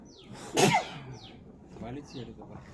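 A single sharp, close sneeze bursts out, brought on by dust during house cleaning, followed by softer throat sounds and faint murmuring.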